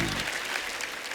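Audience at a show claps in a brief, dense wash of applause, loud and continuous through the short moment, with a voice faintly underneath.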